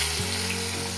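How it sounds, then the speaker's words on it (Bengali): Onion and bay leaf frying in hot oil, a steady close sizzle with a low hum running underneath for the whole moment. "এবারে যে পেঁয়াজ তেজপাতা ফ্রাই করব"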